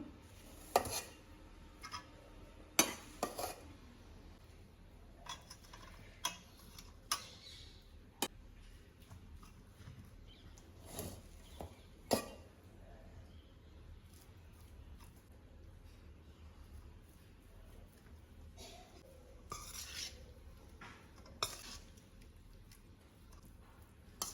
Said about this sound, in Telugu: నేనైతే అన్నము ఇందులోనే వేసుకొని కలుపుకుంటాను